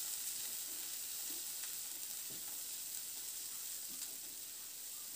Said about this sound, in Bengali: এবার এই মশলাগুলোকে নাড়াচাড়া করে একটু ভেজে নেব।